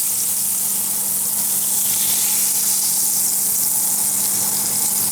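Butter sizzles in a hot pan ahead of American-style pancakes, a loud, steady close-up hiss and crackle that runs without a break.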